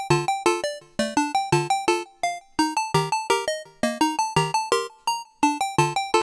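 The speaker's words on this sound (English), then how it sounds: "that's how we got Plucks from Serum." Bright synth plucks from the Serum synthesizer play a bouncy, catchy melodic pattern of short repeated notes with chords, steady rhythm and clean decays, loud and alone with no voice.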